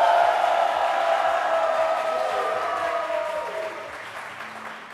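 A French game-show studio audience applauds steadily, a broad wash of clapping that slowly fades over five seconds.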